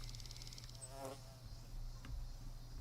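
Mosquitoes whine and buzz in the Enderal: Forgotten Stories game world, a thin high drone over a low hum, with a brief buzzing pass near the middle and another faint one later.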